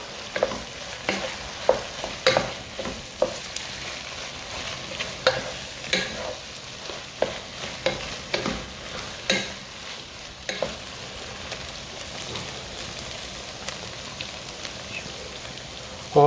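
Spinach frying in a pan with chili and tomato, a steady sizzle broken by regular scraping stirs, close and moderately loud with no talk.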